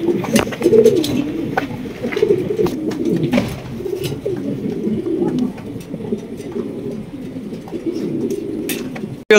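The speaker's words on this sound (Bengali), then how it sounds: "দেখছেন এই যে নরটা ডাকতেছে, দেখেন ডাকার স্টাইলটা দেখেন" A large male black Mundi pigeon coos in low, repeated rolling calls close by, the throaty phrases running continuously alongside other birds' soft cooing in a loft, with brief faint voices in the background.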